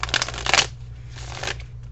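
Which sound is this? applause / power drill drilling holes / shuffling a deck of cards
shuffling a deck of cards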